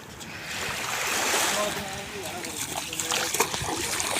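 A caught rock fish is released into the water with a broad splash and trickling water, close by, while people talk.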